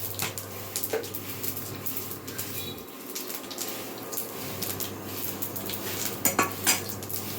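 Panch phoron and a whole dried red chilli sizzling in hot oil, a moderate crackling fizz mixed with clinks of a metal spoon against the pan, with a few sharper knocks near the end.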